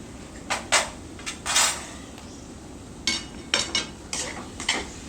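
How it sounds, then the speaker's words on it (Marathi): Stirring a ragi modak filling seasoned with cardamom and nutmeg in a pan, heard as a spoon scraping and clinking against metal in short irregular strokes over a faint sizzling background. "मिक्स करून घ्यायचं आणि आणखीन एक चार ते पाच मिनटं ह्याच्या कडा सुखेपर्यंत आपल्याला ह्याला छान परतून घ्यायचं आहे"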